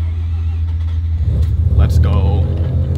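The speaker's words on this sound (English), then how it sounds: "See if the car starts" A car with ignition coil trouble, one that usually needs a couple of tries to start, cranks and then catches into a loud, close, uneven rumble that swells and keeps running.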